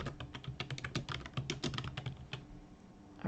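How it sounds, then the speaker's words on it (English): Someone types quickly on a computer keyboard, a steady run of close, crisp keystrokes for about two and a half seconds before it stops. No one speaks. "I'll just type next live class."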